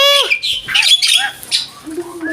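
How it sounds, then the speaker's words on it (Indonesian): An Asian pied starling (jalak suren) kept at a home gives loud, close, varied squawks and whistled calls in quick succession, filling the whole stretch. "Jalak suren, Proy. Lain jalak karupat."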